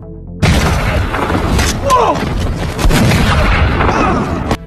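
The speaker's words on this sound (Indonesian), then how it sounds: "Sementara di luar, Stan dan anggotanya terus-menerus melakukan penembakan." Gunfire in a film shootout, dense loud booming shots and impacts running continuously with a sharp burst near the end, while a voice talks over it.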